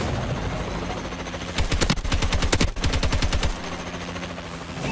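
A machine gun turret fires in Call of Duty: Advanced Warfare on the Terrace map, a rapid, evenly spaced burst of loud shots lasting about two seconds over a constant low mechanical drone.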